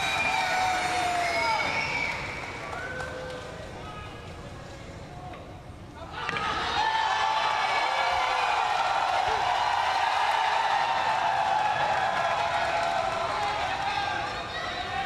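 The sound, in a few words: crowd cheering and applauding at pool match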